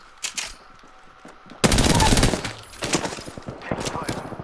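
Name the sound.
gunfire in the video game Apex Legends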